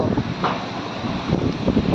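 Strong storm wind sweeps through a village, a steady broadband roar with gusty swells and buffeting against the microphone, loud and continuous with no clear voice.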